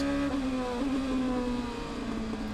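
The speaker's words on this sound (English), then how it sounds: "Down through the gearbox, back on the power again. These fantastic new 2-litre turbocharged cars sound absolutely brilliant." A 2-litre turbocharged race car engine drops in pitch as it downshifts and then carries on under power. The tone is loud, smooth and whirring, close by, with no speech.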